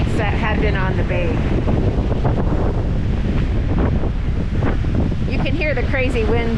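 Strong winter wind whipping across the shore of Keweenaw Bay, a steady roaring buffet on the microphone with waves and slushy ice washing in underneath, joined by a faint voice at moments.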